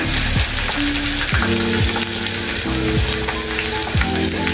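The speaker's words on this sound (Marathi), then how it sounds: "आता मी याच्यामध्ये थोडा कढीपत्ता टाकत आहे। कढीपत्ता छान तडतडला की मग" Curry leaves crackling in hot oil for a Konkan-style pomfret fish curry: a loud, continuous sizzle with sharp popping bursts, heard up close and alone.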